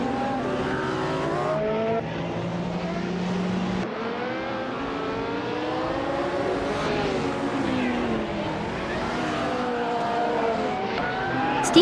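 Race cars roar past in a continuous, loud engine drone with rising and falling revs as a classic 1995 CTR2 leads the pack, harmonic engine whine layered from several cars throughout.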